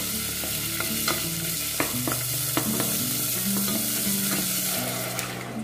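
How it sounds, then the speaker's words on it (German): Curry paste heating in a tablespoon of oil in a pot for a green chicken curry, with a bright sizzle and rhythmic spoon stirring and scraping taps, close and steady, no voices. "Ein Esslöffel Öl mit Currypaste in einem Topf erhitzen."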